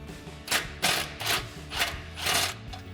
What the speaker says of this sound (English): So we'll take that 16mm socket to remove our first bolt.